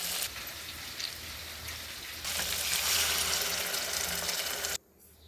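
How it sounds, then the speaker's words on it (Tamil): Dissolved tamarind water poured into a hot pan of Tamil fish curry with sautéed tomatoes, a loud rushing, sizzling splash that swells midway, then cuts off abruptly near the end. "இப்போ புளியை கரைச்சி ஊற்றிக்கலாம்."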